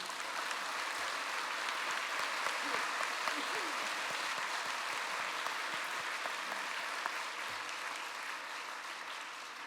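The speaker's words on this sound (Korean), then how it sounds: "자, 박수해 주세요." Sustained applause from a large church congregation fills the whole stretch, steady and dense, easing slightly toward the end.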